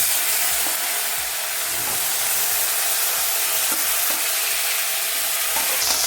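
Tomato and curry leaves frying in a pan for sabudana khichdi, a loud continuous sizzle and hiss with repeated spoon stirring and scraping, close up, with no talk.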